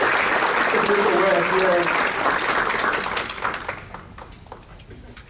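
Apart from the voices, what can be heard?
audience applause for the music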